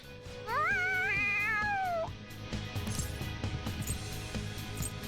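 In the video game Persona 5 Royal, a cat gives one loud, drawn-out, excited meow with a wavering pitch, followed by softer game sounds and background music.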